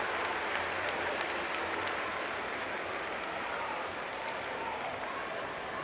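Crowd at a high school boys' varsity basketball state final applauding an injured player, a steady wash of clapping heard from a distance at low volume, alone without talking.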